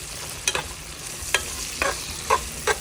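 A spoon scrapes and knocks in a pan as vegetables sauté with malunggay leaves, chayote and green papaya for a mung bean dish. Several separate stirring clacks sound over a soft, steady sizzle, close by and with no talk.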